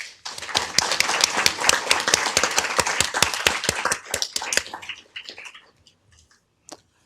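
A round of applause at a Downey city council meeting honoring the police and fire department: a small group claps in sharp, distinct strokes for about five seconds, thinning to scattered claps and then near silence.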